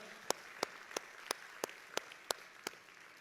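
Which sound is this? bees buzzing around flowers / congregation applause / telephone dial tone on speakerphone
congregation applause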